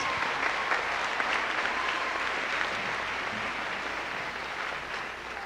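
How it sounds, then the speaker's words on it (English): Steady applause from a school show-choir audience honoring a choreographer, a dense even wash of many hands clapping throughout with no voices standing out. "give her a good round of applause"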